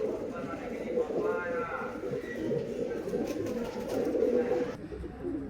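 Girebaaz pigeons, somewhat agitated, coo and rustle nearby while a person talks over them throughout.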